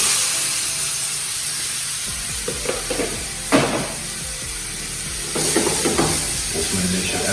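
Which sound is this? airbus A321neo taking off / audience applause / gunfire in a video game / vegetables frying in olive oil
vegetables frying in olive oil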